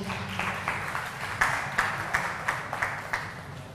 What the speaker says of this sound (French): On les applaudit, ça va les encourager.